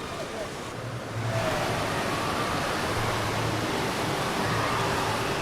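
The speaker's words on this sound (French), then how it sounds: "On arrive devant la grande piscine à vagues." Broad steady rush of surging water fills a large wave pool, two to two and a half metres deep, at the Europa-Park water park, continuous and fairly loud, with a faint rise after the first second and low murmurs of people beneath.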